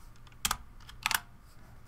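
Two short bursts of computer keyboard typing while code is written, each a quick cluster of crisp key clicks, close and moderately loud over a quiet room.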